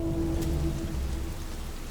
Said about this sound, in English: So, what happens with buildings and rain? Does it drip off them?